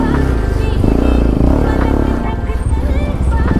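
A motorcycle is ridden into a parking spot at a crowded Sunday market, its engine puttering and pulsing close by beneath loud crowd chatter and voices.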